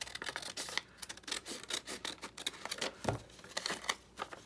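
Scissors cut through a paper envelope to make a junk journal pocket, giving a quiet run of rasping snips and rubbing paper at close range with no talking.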